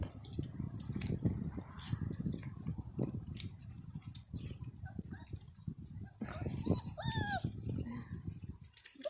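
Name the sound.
Border Collie puppies whimpering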